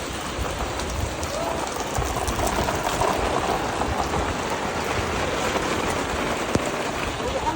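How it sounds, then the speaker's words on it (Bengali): Heavy rain falls steadily at an open-air cattle market, a dense, even hiss of drops pattering on surfaces with no let-up, and a faint voice now and then underneath. "এইভাবে ভিডিওটা দেখাইতে হইতেছে কারণ অনেক বৃষ্টি পড়তেছে।"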